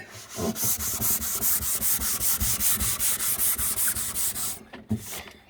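Close, loud strokes of 240 grit sandpaper rub back and forth in a steady rhythm over an antique pine and mahogany Victorian chest of drawers, ending with a pause and a couple of bumps.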